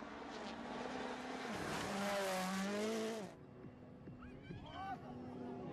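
A BMW rally car races by loudly, its engine roaring and revving for about three seconds before fading to a lower drone, with people talking over it.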